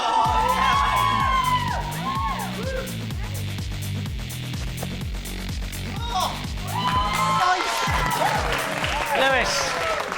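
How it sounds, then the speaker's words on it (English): A crowd of girls screaming and cheering at a live children's TV show, loud and sustained with shrill whoops and rising shrieks throughout, no clear talk on top. "Have all the girls screaming, I like it a lot."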